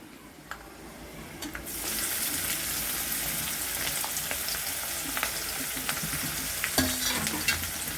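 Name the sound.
onion and green chilli frying in oil for poha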